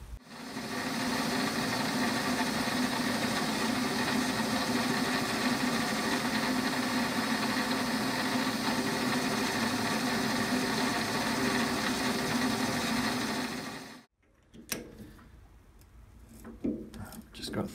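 A lathe turns down a 10mm steel shaft over a 30mm length, a steady loud mechanical drone with whirring motor hum running continuously for about fourteen seconds before cutting off abruptly, leaving quieter workshop sounds.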